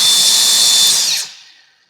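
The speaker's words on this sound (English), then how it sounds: "And this is my grinder from pipelining as a welder's helper." A Slag Killer grinder fitted with a wire wheel, a pipeline welding tool, whines loud and close at full speed, then winds down to silence after about a second.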